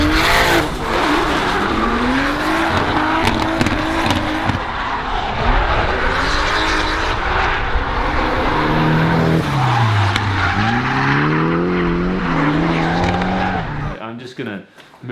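A Nissan S14a drift car with an RB26 engine, loud and close, its engine wailing and revving up and down while the tires squeal continuously, then cutting off near the end.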